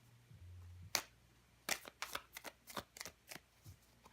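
Tarot cards being shuffled up close, a series of quick crisp riffles and taps with short gaps, quiet and with no talking.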